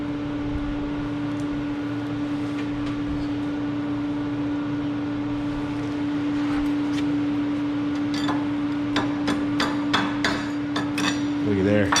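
Sharp metallic chipping taps, several in quick succession toward the end, knocking slag off a stainless steel stick weld made with 309L rods, over a steady electrical hum.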